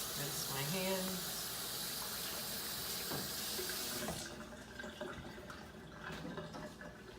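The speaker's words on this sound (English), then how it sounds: "Rinse my hands." Kitchen tap water runs steadily over hands being rinsed, a close hissing splash that cuts off partway through, followed by faint handling clatter in the sink.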